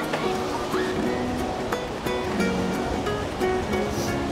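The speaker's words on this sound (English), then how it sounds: "Very windy out here." Steady wind roars across an open beach by a jetty on Amelia Island, with surf washing underneath and brief gusts buffeting throughout.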